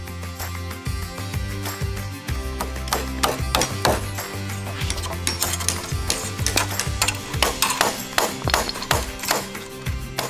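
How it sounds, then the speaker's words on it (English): Hammer blows drive nails while wooden walls are framed on a building site, with many sharp, irregular strikes in quick bursts that carry on steadily throughout. "We've been nailing some pieces together"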